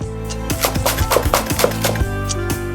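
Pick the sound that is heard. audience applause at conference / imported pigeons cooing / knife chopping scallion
knife chopping scallion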